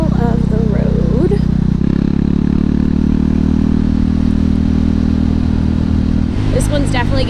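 A KTM 390 Duke single-cylinder motorcycle engine hums steadily while riding, a continuous mid-pitched drone with a gear change partway through, mixed with wind and road noise throughout.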